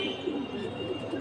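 A high-flying pigeon gives a soft, low coo that rolls on through the moment, close by and fairly quiet against faint background noise.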